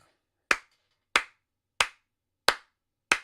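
Five sharp hand claps ring out close and alone, evenly spaced at a steady, deliberate pace with silence between each one.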